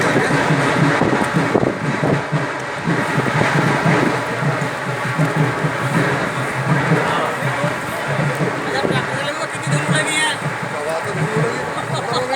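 A train arrives at a sugar mill during the opening ceremony of the cane-crushing season, with a continuous rumble and clatter under crowd noise and talk throughout.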